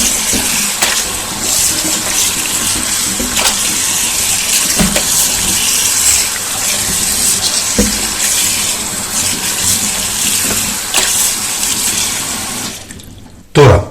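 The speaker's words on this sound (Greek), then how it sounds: "Και θα ξεπλύνουμε πολύ καλά το κρέας μας με κρύο νερό." Meat and pork fat are rinsed under a cold running kitchen tap: a loud, steady stream of splashing water that continues throughout, then cuts off abruptly at the end.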